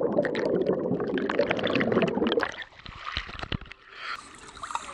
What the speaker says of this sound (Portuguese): Segunda vez que eu pulo nessa piscina